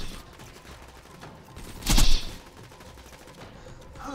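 A short burst of gunfire in the video game Borderlands, one loud sharp cluster of shots rising above a constant low noisy background, with no talking.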